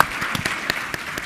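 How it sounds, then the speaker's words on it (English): Audience applause for panelists at a conference in Miami, a steady spread of clapping hands from a crowd, fairly loud and continuous. "another round of applause for our panelists"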